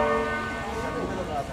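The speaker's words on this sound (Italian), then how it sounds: "Questa è l'ultima campana" At a 5000 m elimination track race, a bell rings steadily, its bright, sustained tone carrying under a commentator's voice.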